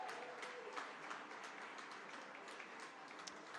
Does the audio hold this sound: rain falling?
no